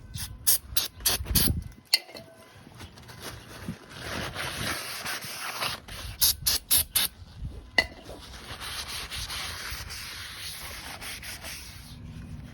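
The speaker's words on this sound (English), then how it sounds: "take some brake cleaner or isopropyl alcohol and clean up both sides of the new rotor surface" Brake cleaner is sprayed in hissing bursts onto both faces of a new disc brake rotor for a 2001 Jeep Cherokee, close and fairly loud, with rubbing and wiping sounds between sprays.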